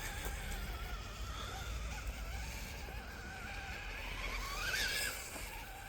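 Steady whine of a vintage Kyosho RC buggy's electric motor under gentle throttle, a continuous hum with a brief rise near the end, no talking.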